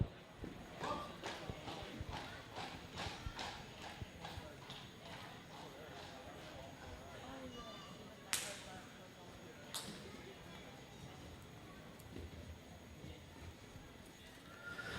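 Draft horse walking at a horse sale in Indiana, hooves clip-clopping in a steady rhythm early on and then thinning out, a couple of sharp cracks partway through, with an auctioneer talking over it.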